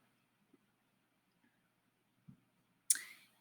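Computer mouse clicks, a few faint, sparse taps in a quiet room followed by one sharper, louder click near the end.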